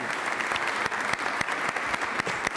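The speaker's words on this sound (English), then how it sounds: "Give him a round of applause." Audience applause rings out at an inaugural ceremony for Milwaukee's elected officials, dense clapping with distinct sharp claps standing out, moderately loud and continuous.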